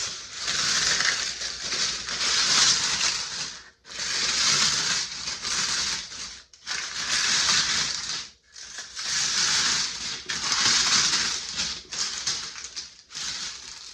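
Dried sourdough starter broken apart by hand, a close, loud crackling and crunching in four or five long bursts separated by short pauses, with no talking over it.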